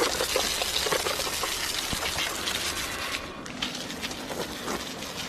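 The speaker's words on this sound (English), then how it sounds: "just grab your water hose and just spray it with your water hose." A garden water hose sprays outdoors in a yard, giving a continuous broadband hiss and splatter that stays fairly even for several seconds, with no talking.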